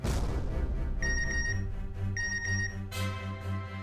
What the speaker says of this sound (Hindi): आ गया मिंटी का मैसेज।